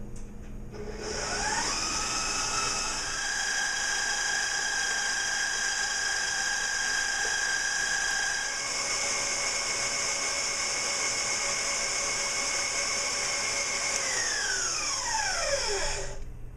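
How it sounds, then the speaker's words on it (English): An electric mixer whips the egg mixture for chocolate lava cake batter, spinning up to a loud, steady high whine, shifting pitch midway and winding down at the end, alone with no talk. "all we want to do is just really whisk as much air into these as possible"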